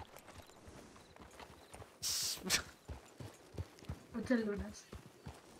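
Horse hooves clip-clop steadily during a ride in the role-play game El Rancho RP, a soft, even rhythm heard under people chatting, with a brief rustle partway through.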